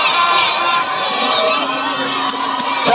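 A dense, steady roar of a football crowd cheering at a stadium during a cup final match, loud and continuous throughout with shouts and whoops rising from the mass of voices.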